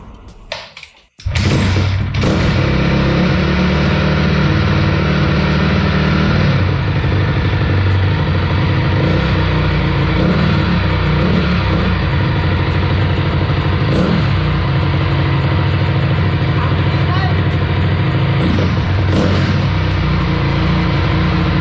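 A Honda CRF250R dirt bike engine catches after a brief start attempt and runs loud and close, holding a steady roar with revving throughout.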